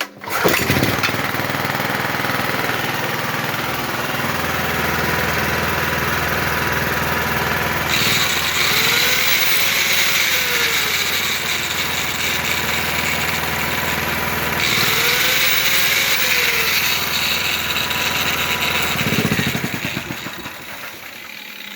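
A 5.5 kW petrol generator runs steadily with a loud, constant engine drone, its pitch briefly shifting twice as the load changes, then it cuts out.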